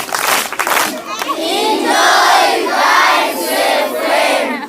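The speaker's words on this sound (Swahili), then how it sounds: "Pigie makofi." Children at Lutozo primary school clap in a quick flurry near a radio microphone. The clapping quickly gives way to loud, sustained group shouting and cheering.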